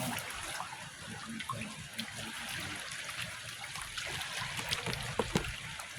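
Food being washed in water at a seaside spot before making kinilaw, a steady close splashing and trickling with small clinks and knocks scattered through it.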